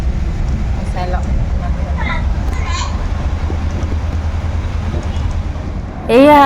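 A train stands at Tinsukia railway junction as a locomotive moves off to couple onto it, making a steady low rumble with faint voices and brief squeals, then a sudden louder tone at the very end.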